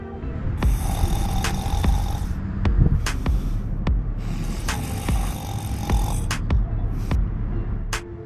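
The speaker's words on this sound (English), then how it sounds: "some dude's snoring" A man snores in slow, regular, rasping breaths against a constant low background hum, with occasional sharp clicks and passing noise.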